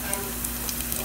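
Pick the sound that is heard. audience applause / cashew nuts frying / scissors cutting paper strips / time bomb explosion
cashew nuts frying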